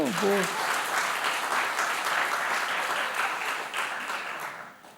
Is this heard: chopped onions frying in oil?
no